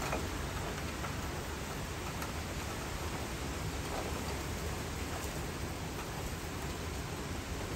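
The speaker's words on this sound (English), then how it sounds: "this is some more drought busting rain too on top of that, which again is very, very much needed" Heavy rain from a severe summer thunderstorm line with 60-70 mph winds in St. Charles, Missouri, a steady, dense hiss pouring down continuously without a break, with no voices.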